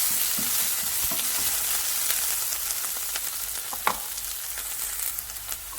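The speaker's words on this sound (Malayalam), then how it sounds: "അതുവരെ നമുക്കിതൊന്ന് വഴറ്റാം." Onion, garlic and shallots sautéing in a pan for a green gram stir fry, giving a steady close sizzle with scattered stirring clicks and scrapes throughout.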